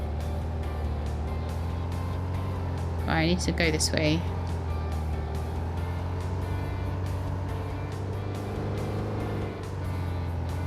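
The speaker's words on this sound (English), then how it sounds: "We can go quite fast in these cars." Cars driving fast in the VoxelTurf video game give a steady, droning engine hum throughout, while someone speaks briefly over it.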